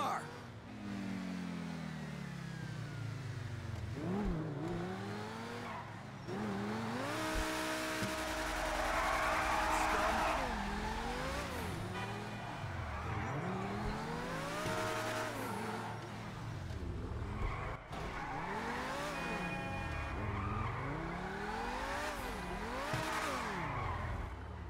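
A Progen T20 supercar in GTA 5 races at high speed, engine whining up and down through repeated revs and gear shifts, with tire skids and passing swooshes mixed in; a voice talks over the action.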